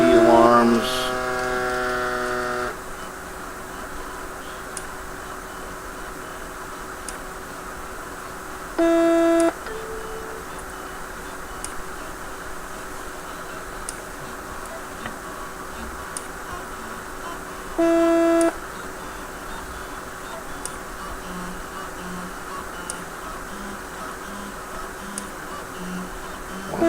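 Vital signs monitor starting a non-invasive blood pressure measurement, giving two short paired electronic beeps several seconds apart over a steady faint mains hum, with a brief tone burst at the start.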